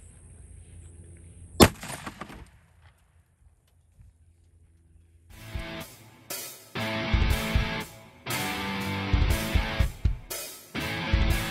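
A single .50 Beowulf rifle round fired into a cinder block cracks out sharply and loudly, followed by a few seconds of near quiet and then several bursts of rough, windy outdoor noise.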